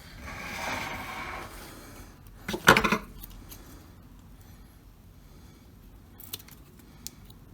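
A metal Danelectro guitar pickup cover being trimmed at its unsoldered edges: a brief cluster of sharp metallic snips and clinks near the middle, then a few small faint ticks in a quiet room.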